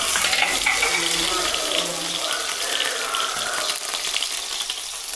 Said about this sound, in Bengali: পনিরটা দেখাই যাচ্ছে কি চপচপ করছে তেলের উপরে